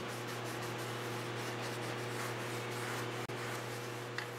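A towel rubs clean the friction surface of a clutch pressure plate from a 2003 Kia Rio, a soft, steady scrubbing hiss close by over a constant low hum, broken by one brief click near the end.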